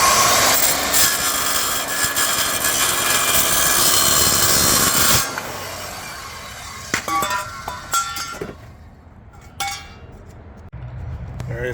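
Aluminum pieces cut for a boat's rear deck framing during a V-hull to bass boat conversion, a steady loud cutting roar for about five seconds, then quieter scraping, clinks and handling of metal.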